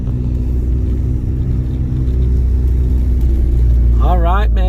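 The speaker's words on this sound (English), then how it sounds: "I'm just so happy to be driving around in my GTI Mark V" A Volkswagen GTI Mark V driving with a steady, loud low engine drone from inside the cabin, and a brief voice breaking in near the end.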